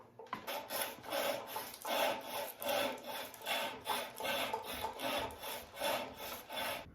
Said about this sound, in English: It's chipping out, but I'll sand it down